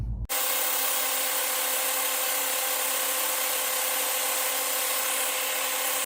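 A Festool Rotex sander runs steadily while putting a bevel on wooden dowels, a continuous close, loud whirring grind that starts abruptly and holds evenly throughout with no voices.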